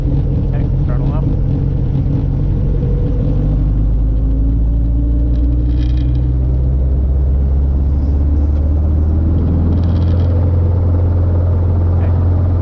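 Robinson R22 helicopter engine throttling up, a loud close low rumble with rising rotor and engine tones, heard inside the cockpit with voices talking over it.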